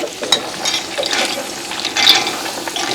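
Green peanuts and vegetables sauté in a pan outdoors, giving a steady close sizzle and frying crackle with stirring scrapes for about three seconds, alone with no talk.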